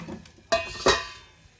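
A lid set down on a metal appam pan while making milk appam, two sharp metallic clanks about a third of a second apart, close and clear in an otherwise quiet kitchen.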